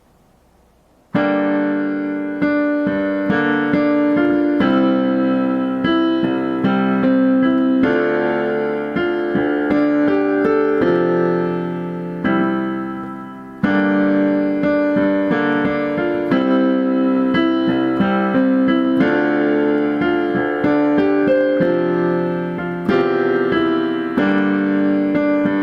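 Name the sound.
piano playing a song intro slowly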